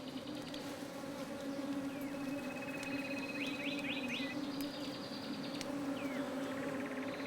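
Bees droning steadily from a nest built inside an abandoned burrow, a continuous close buzz with brief bird chirps over it.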